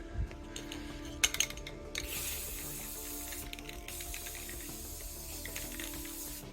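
Rust-Oleum Matte Clear sprayed from an aerosol can onto a miniature model in a garage: a soft, continuous airy hiss lasting several seconds after a few light clicks, fairly quiet and steady.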